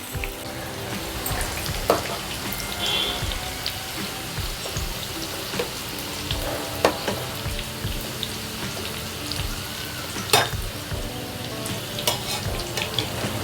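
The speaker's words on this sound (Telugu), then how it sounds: "మెల్లిమెల్లిగా కలుపుకుంటూ ఉండాలి బ్రౌన్ కలర్ వచ్చేదాకా సమోసాలని" Egg and onion samosas frying in oil on a low flame, a continuous bubbling sizzle with occasional sharp pops and the slow scrape of stirring, heard up close.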